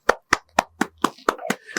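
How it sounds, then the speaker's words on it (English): A team standing behind the camera claps loudly in a close, even rhythm, about eight crisp claps in under two seconds. "The whole entire team is behind the camera clapping loudly"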